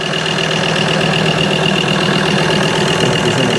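A Ford engine idles steadily and loudly, with a busy ticking clatter from its fuel injectors; fuel has leaked around the injector return line. The sound stays constant and close throughout, with no talking.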